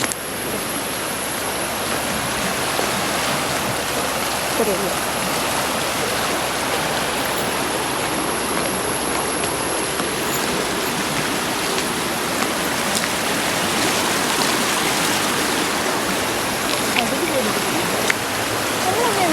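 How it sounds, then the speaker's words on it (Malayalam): A low-flow waterfall roars as a steady, broadband wash of rushing water close by, continuous throughout, with a brief spoken word over it. "നിങ്ങൾ ആ വെള്ളച്ചാട്ട ശബ്ദം കേൾക്കുന്നുണ്ടോ?"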